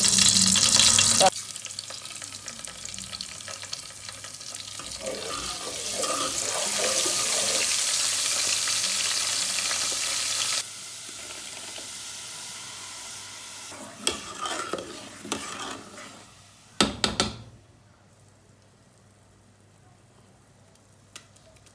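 Peppers fry in a pot of brown oil seasoned with thyme and curry, a steady close sizzle with stirring scrapes that breaks off partway, then a few clatters and quiet near the end.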